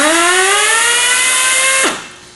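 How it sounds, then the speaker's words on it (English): Raptor power torque wrench breaking a nut free, a loud steady motor whir with a slowly rising pitch that drops away as the fastener gives near the end. "So now I'm breaking that nut free."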